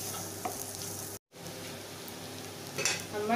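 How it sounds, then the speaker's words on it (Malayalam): Onions sizzle in a pan for a spicy prawn roast while being stirred, a continuous close frying hiss broken by a brief pause, with small utensil clicks. "ഉള്ളി വാടാനായിട്ട് ഒരു അഞ്ച് മിനിറ്റ് നമുക്ക് ഇളക്കി കൊടുക്കാം"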